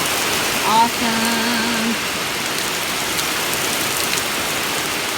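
Heavy rain pours down steadily onto a porch and fills rain barrels, a dense, continuous hiss close by, with a brief spoken exclamation near the start.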